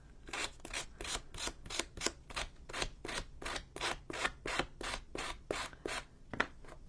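Sandpaper of roughly 200 grit rubbed over paper edges in repeated quick strokes, about twenty rasping swipes in steady rhythm, close and fairly quiet, with no talking.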